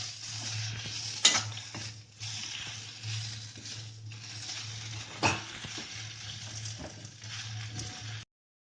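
A spoon stirs dry potato and taro sabzi in a pan, soft scraping and a faint sizzle over a low steady hum, with two sharper clinks of metal against the pan.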